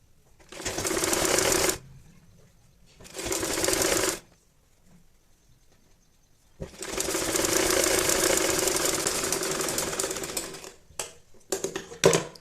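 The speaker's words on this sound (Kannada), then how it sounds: "ಇವಾಗ ಈ ಎಜ್ಜದಿಂದ ಸ್ಟಿಚ್ ಹಾಕ್ತಾ ಹೋಗಬೇಕು" A sewing machine stitches cloth for a baby's nappy with bursts of rapid mechanical whirring. Two short runs are followed by a pause and then a longer continuous stretch, ending in a few quick stops and starts, with no talking.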